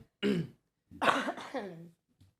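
A throat clear followed by a rough, drawn-out cough, close to the mic, with short silent gaps between bursts.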